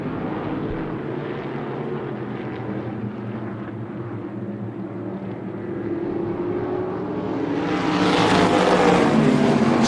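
Sprint Can-Am cars race at Tucson Speedway, a loud steady roar of several engines that swells and rises in pitch as the pack comes closer near the end; no talk.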